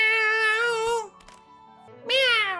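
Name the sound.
BadboyHalo imitating a cat meowing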